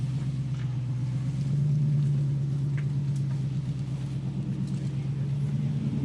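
Infiniti Q45 V8 engine idling after a new 3.692 rear end install, a steady low rumble heard close and continuous, with little change in level over several seconds.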